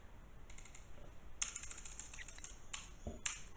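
Fast keystrokes rattle on a computer keyboard in short bursts with brief pauses, light clicky taps close by and fairly quiet, with no talking.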